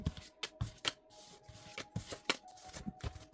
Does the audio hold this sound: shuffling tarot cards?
yes